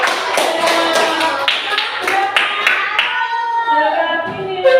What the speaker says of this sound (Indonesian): Tepuk tangan untuk kelompoknya.